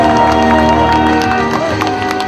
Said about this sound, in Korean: 뜨거운 박수를 부탁합니다.